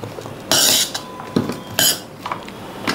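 A spoon scraping and clinking against a bowl while bhel puri is mixed with green chillies, several bursts of rustling and clatter close by, with no talking.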